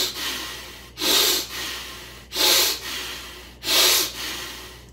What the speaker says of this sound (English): you're breathing from the belly with force from the diaphragm